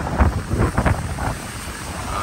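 Surf rolling onto Boracay White Beach during the habagat monsoon season, with rough wind buffeting the microphone and a few stronger surges of water early on before a steadier wash.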